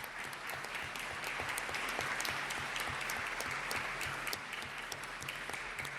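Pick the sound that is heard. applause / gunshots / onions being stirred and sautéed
applause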